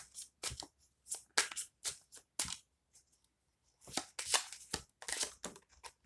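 A tarot deck is shuffled by hand, giving repeated quick riffling bursts close up, with brief pauses between them and no talk.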